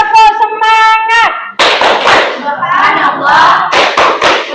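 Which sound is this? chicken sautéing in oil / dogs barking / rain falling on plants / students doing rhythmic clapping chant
students doing rhythmic clapping chant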